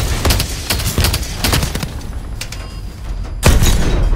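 Heavy tank cannon blasts and rapid gunfire crackle in quick irregular bursts, punchy booms with a final loud blast, combat from Call of Duty: Advanced Warfare with no talking.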